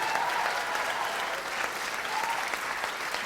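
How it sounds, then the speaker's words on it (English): Sustained audience applause fills the hall at an international awards show, an even, dense wash of clapping heard without talk. "I want to give a big round of applause to Avi and Samantha."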